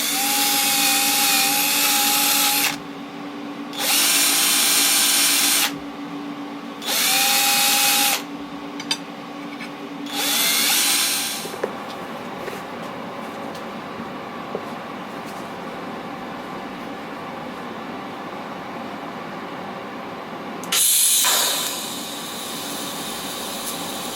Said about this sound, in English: I've got this little wire cup on the drill. I'm just going to clean it up.